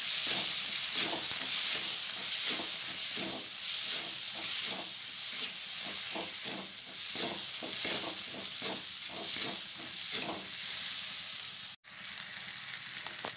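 Spices roasting in a pan for cabbage pakoda make a continuous close sizzle, broken by regular scraping strokes of stirring.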